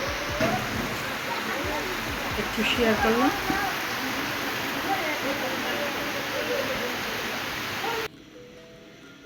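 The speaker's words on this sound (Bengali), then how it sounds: "নাস্তা খাওয়ার পর বসে বসে বৃষ্টি উপভোগ করলাম" Morning rain falling steadily outdoors, a dense continuous hiss of drops on surfaces, heard under someone speaking briefly before the sound cuts off near the end.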